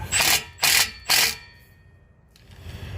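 A power tool tightens a part on a Dodge Charger Scat Pack widebody in three short, loud whirring bursts close by, followed by quiet shop ambience and a faint rustle.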